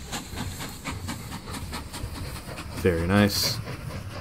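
A steam train in the Mashinky video game chuffs with rhythmic hissing beats, then gives a short whistle blast near the end, while someone speaks briefly over it.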